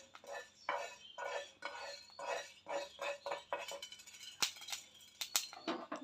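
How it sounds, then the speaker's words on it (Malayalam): Fenugreek seeds popping as they dry-roast in a pan, stirred with a metal spoon, giving a soft, busy run of scraping and rustling strokes followed by several sharper clinks against the pan. "നമുക്കൊന്ന് ഇളക്കി കൊടുക്കാം."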